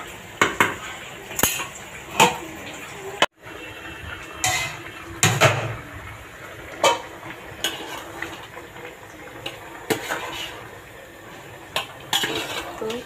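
Cooking in a home kitchen, with metal pots and utensils clinking and scraping in scattered, irregular knocks over a low background hiss.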